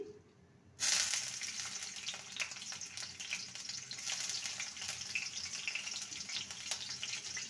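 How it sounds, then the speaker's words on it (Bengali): Chopped garlic hits hot mustard oil and bursts into a sudden, close hiss that settles into a steady sizzle for several seconds, alone with no voices. "সর্ষের তেল এবারে দিয়ে দেবো রসুন কুচি"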